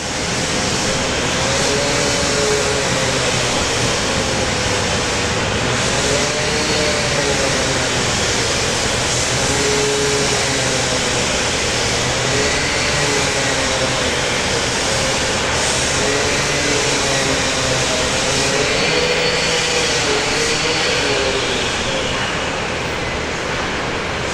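A Fokker 70 airliner at Brisbane Airport sends out a steady, loud jet engine roar with a broad rushing hiss and a slowly wavering whine, constant for the whole stretch with no talking.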